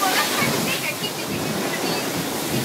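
Torrential rain pours down at a racetrack in a storm, a loud, dense, continuous roar of water with gusty wind noise buffeting the microphone throughout.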